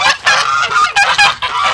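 Geese on a farm honk loudly and continuously at close range, several overlapping calls forming a raucous chorus with no talking.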